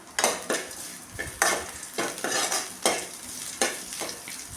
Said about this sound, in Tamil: வெங்காயம் நல்லா வதங்கிருச்சு இப்போ வந்து தட்டி வச்ச பூண்டு இதோடு போட்டுக்கலாம்